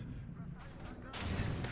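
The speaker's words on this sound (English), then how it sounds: "eat that RPG, son" An RPG rocket explodes in Call of Duty: Modern Warfare 2, a booming blast following a rumbling stretch, loud and close.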